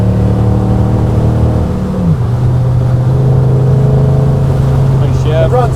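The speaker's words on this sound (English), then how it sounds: "running much better now that we warmed her up. Got some good power too, that 350." The 350 V8 in a 1946 Chevy 3100 pickup truck runs with a loud, steady drone, pitch dipping briefly during a gear shift before settling again, heard from inside the cab with some talk.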